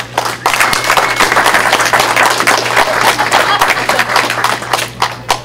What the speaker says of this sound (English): People, a round of applause for all of the great large personalities around us.